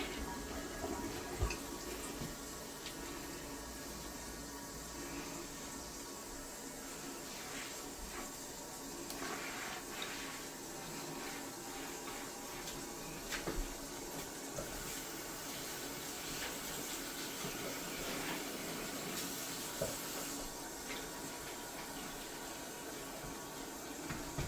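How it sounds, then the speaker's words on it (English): A toilet flushes after bowl cleaning, producing a long, even rush of running water with a hissing wash that holds steady at moderate volume and close range throughout. "So now I'm going to flush it."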